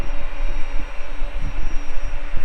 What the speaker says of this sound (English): I think there might be an helicopter taking off over that side of the field.